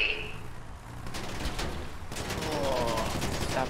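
Rapid gunfire bursts from a GTA roleplay game scene with a remote-control APC, crackling steadily and fairly loud across the whole stretch, with a brief lull before the shooting grows denser.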